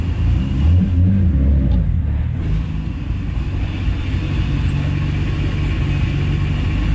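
A car engine pulls away in first gear just after a rigid steering collar is fitted, a steady low rumble sustained throughout at close range, with no talking.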